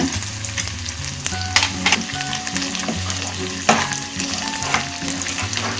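Potatoes sauté in a nonstick pan with a steady, close sizzle and frying crackle, and intermittent stirring scrapes and clicks run throughout. No one speaks.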